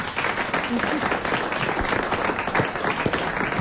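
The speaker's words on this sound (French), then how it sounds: "On vous applaudit tous les deux" A studio audience applauds steadily for two boys honoured on a French television talk show, the clapping dense and continuous throughout with a voice talking over it.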